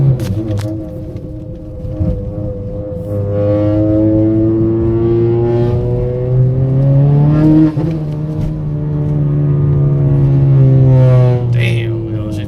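A 10th-generation Honda Accord accelerating hard with a fresh clutch, its engine note climbing steadily in pitch toward about 4,000 rpm, loud and close from inside the cabin, with a brief dip as it shifts partway through.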